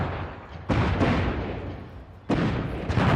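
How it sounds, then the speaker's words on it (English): Explosions in the fantasy video game Dragon Age Inquisition, set in a forest: two heavy booming blasts with rumbling tails, one early and one near the end, over a steady low rumble, loud and alone without talk. "Damn kids and their fireworks."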